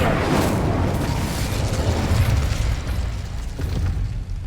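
Incendio fire spell cast in Hogwarts Legacy, a loud whooshing, roaring burst of flame that fills the whole moment and stays heavy and rumbling until it fades slightly at the end.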